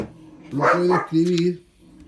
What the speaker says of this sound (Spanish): que alguien saque ese perro por favor